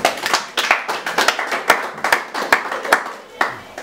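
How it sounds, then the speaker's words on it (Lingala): A church congregation applauds after a prayer, a brisk run of sharp, close handclaps with a few voices faintly underneath. "Pour les scores, acclamons pour la parole et la prière."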